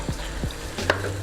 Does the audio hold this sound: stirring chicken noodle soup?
yes